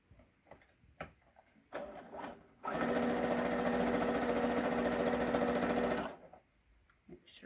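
A sewing machine stitches a quarter-inch seam joining quilt squares, running in one loud, steady whirring burst of about three and a half seconds, with a few soft clicks and handling sounds before and after.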